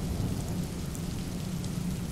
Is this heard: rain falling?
yes